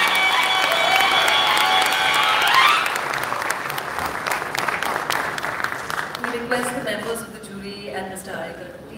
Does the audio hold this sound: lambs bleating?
no